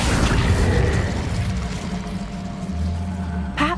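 Incendio fire spell cast in the video game Hogwarts Legacy: a loud whooshing, rumbling burst of flame that fades into a low droning hum, ending with a short bright flare.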